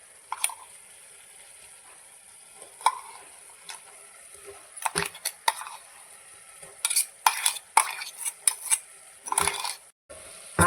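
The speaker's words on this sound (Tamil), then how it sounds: "இப்போ நம்ம அரைச்சி வச்சுருக்க விழுதை இதோடு சேர்த்து நல்லா வதக்க போகிறோம்." A ground spice paste is stirred into softened tomatoes in a pan for karpuravalli leaf rasam, giving intermittent scraping and clinking utensil strokes in short bursts over a faint, steady background hiss.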